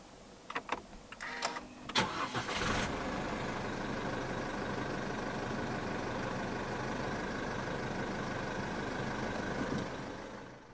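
A 2022 Isuzu D-Max 1.9 4x4 pickup is push-button started: a few clicks and a short starter crank, then the engine catches and settles into a steady, fairly quiet idle.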